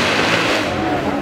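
A remapped twin-turbo supercar with race exhaust runs at a supercar weekend at Beaulieu: a loud, close, continuous engine roar across a short burst, with crowd noise blended in.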